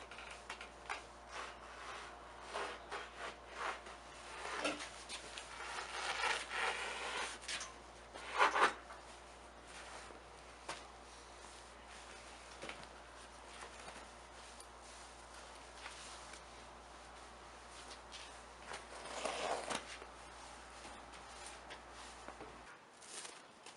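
A box cutter slices and tears through cushion padding on a plywood swivel plate with quiet, irregular scraping and rubbing, broken by a few louder rasping bursts, up close and without voices.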